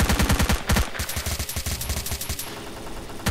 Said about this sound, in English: Just shooting into nothing.